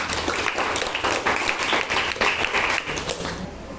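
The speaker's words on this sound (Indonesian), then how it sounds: "Tepuk tangan semuanya." Applause from a group in a classroom setting after a teaching video, a dense, steady patter of clapping throughout, fairly close, with a faint voice near the end.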